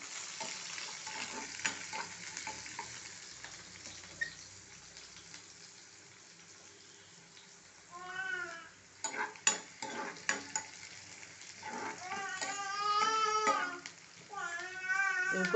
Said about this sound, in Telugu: కొంచెం ఉల్లిగడ్డలు వేగాలి